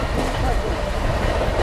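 A Bhubaneswar Rajdhani Express train rolls past at speed, a steady loud roar of wheels and carriages with faint rhythmic clatter that holds for the whole stretch.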